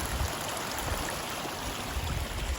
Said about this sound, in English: Lots of water running over the top.